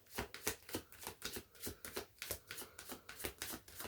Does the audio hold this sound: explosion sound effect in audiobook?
no